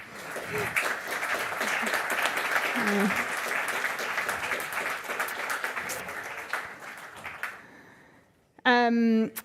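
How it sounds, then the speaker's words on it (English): Conference audience applauding in a steady, dense round that fills most of the span, then fades out, followed by a brief loud voice at the end. "Can we have a round of applause?"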